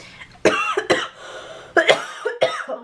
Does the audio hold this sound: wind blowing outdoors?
no